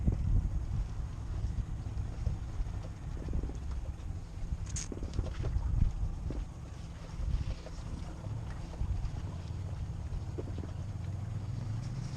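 A small motor on an inflatable ferry life raft runs at full throttle on Ullswater in the Lake District, a steady low drone mixed with wind buffeting the microphone and faint water sounds, with no voices.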